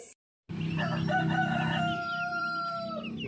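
Backyard chickens, including three-month-old birds and heritage breeds, cluck while a rooster crows loudly and close after a brief pause, the long drawn-out crow dominating over the flock's background clucking.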